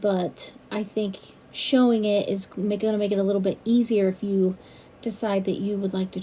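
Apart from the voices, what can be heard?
No everyday noise stands out behind the speech.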